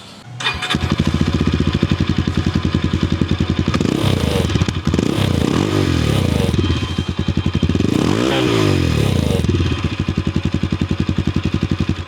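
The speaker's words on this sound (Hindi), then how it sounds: "तो चलिए एक बार हम लोग इसके एग्जॉस्ट साउंड को भी सुन लेते हैं।" A Bajaj Pulsar 220 F motorcycle engine starts and idles with a steady, throbbing exhaust note, revved a couple of times before settling back, close and loud.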